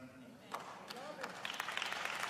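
Clapping builds up at a funeral gathering, scattered hand claps growing denser and louder over a couple of seconds beneath people talking.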